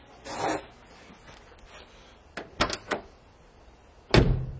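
A freshly greased door being opened and closed to test it, with soft handling clunks, a few quick latch clicks and a firm final thud, close by in a quiet space.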